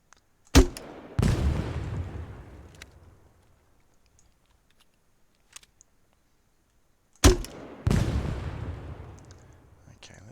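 Gunfire blasts destroying a vehicle in the military game Arma 3, two pairs of sharp loud bangs each followed by a decaying rumble, separated by several seconds of near silence.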